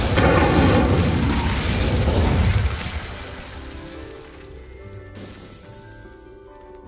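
An Incendio fire spell erupts in Hogwarts Legacy with a loud, rumbling fiery blast that roars for a couple of seconds, then fades into a quieter, echoing tail.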